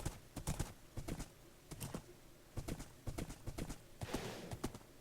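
Horse hooves clip-clop steadily in The Lord of the Rings Online, a brisk, even rhythm of close, crisp footfalls carrying on throughout with no voices.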